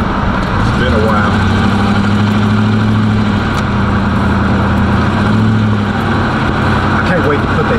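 An Oldsmobile Cutlass engine idles steadily with a deep, constant rumble, loud and close, without pause.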